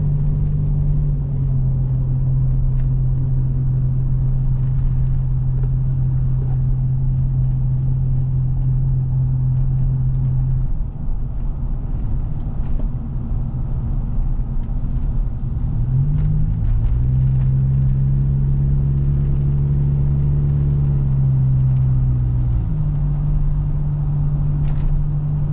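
Toyota Land Cruiser Prado 90 with a 4-speed transmission drives along, its engine rumbling in a steady low drone inside the cabin, the pitch dropping and rising mid-way as it shifts, sustained throughout without talk.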